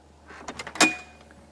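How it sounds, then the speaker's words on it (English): An RV door is opened: a few soft mechanical clicks, then a sharp latch clunk near the middle and a final knock, close and fairly quiet, with no talk. "open that door."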